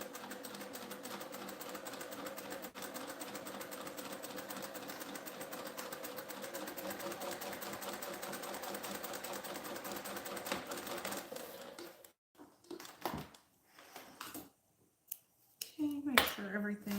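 A sewing machine stitching travel passport organizers runs in a fast, steady mechanical whir for about eleven seconds, then stops and gives way to a few scattered handling clicks and taps.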